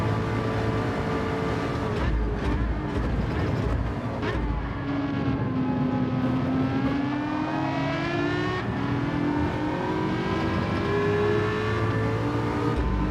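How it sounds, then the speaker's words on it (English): An Aston Martin race car engine in a Gran Turismo race roars continuously at high revs, its pitch climbing and dipping through gear changes and throttle shifts, loud and close throughout. "Oh, that Aston Martin sounds good"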